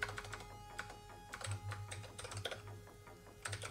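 Quick bursts of typing on a computer keyboard during a C# coding session, close and fairly quiet, with irregular clusters of key clicks separated by brief pauses.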